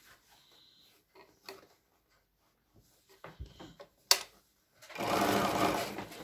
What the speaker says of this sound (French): je suis en train de fermer le coussin et donc de piquer bord à bord